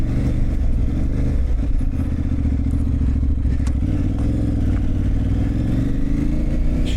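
A motorcycle rides along an unsurfaced green lane byway toward Ox Drove in rural south Dorset, UK. Its engine drones loud and close without a break, with a slight rough clatter and no voices.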